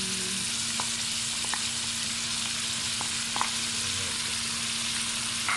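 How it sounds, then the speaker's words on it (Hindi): Chicken frying in a pan with chili sauce gives a steady, loud hiss and sizzle throughout, broken by a few faint clicks and stirring scrapes, with no talking. "और अब ये इसको कितनी देर फ्राई करेंगे आप?"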